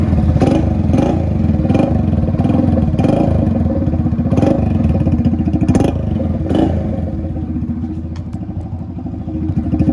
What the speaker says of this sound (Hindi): अब सुनना, बहुत ही बढ़िया साउंड बनाता है ये साइलेंसर।